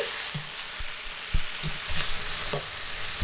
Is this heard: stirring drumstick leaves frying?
yes